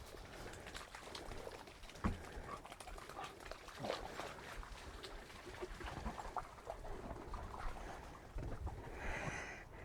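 Dogs sniff and snort as they root through a hedge along a field edge on a Cotswolds countryside walk. The snuffling and rustling are faint and continuous, with occasional louder snorts and no talking.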